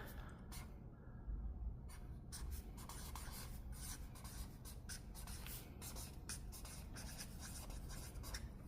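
A pen scratching on paper held in a binder, quiet, close strokes in quick irregular bursts with brief pauses, continuing steadily throughout without any speech.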